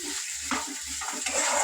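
Spice masala sizzling and frying in oil in a pan for a Bengali fish curry, a steady bright hiss with soft stirring scrapes and pops, close and continuous.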